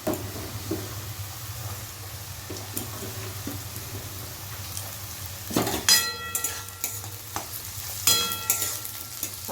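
Green beans and carrots fry and sizzle in a hot pan, a steady close sizzle broken by several sharp clinks and scrapes of a utensil stirring against the pan.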